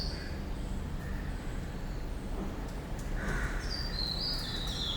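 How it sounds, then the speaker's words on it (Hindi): Many birds call outdoors in the morning, crows among them, with scattered chirps and caws at a moderate distance over a steady background hum, and no talking. "ढेर सारी चिड़ियाएं बोल रही हैं।"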